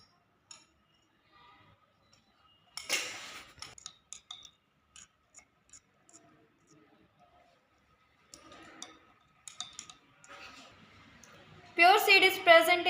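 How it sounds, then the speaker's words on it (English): A glass rod stirs in a glass test tube, giving sparse light clinks and ticks with quiet gaps, plus a brief rustle and a voice near the end. "Stir with glass rod."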